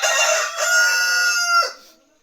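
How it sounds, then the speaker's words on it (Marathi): A rooster in a Konkan village crows once, a loud, close cock-a-doodle-doo that rises, holds and then trails off abruptly, heard alone without talk. "हो कोंबडे सांगतात"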